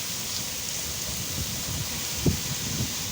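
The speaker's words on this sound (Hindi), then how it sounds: "इतना ज़ोर से बारिश हो रही है कि रोड में आदमी बह जाए।" Heavy rain pours steadily during a thunderstorm in Oman, a dense continuous hiss of downpour with a few low thumps and no voices.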